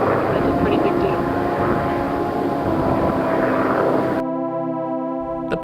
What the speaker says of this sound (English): The plane flying above me was interfering with my recording session.